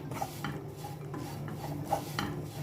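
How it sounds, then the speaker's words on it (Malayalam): Kashmiri chili powder and coriander powder being sautéed in a pan, with a soft continuous scraping and stirring rasp and faint sizzle, close and fairly quiet, no voices. "ഈ പൊടികളിലൊക്കെ പച്ചമണം മാറുന്ന വരെ ഒന്ന് വഴട്ടിയെടുക്കണം"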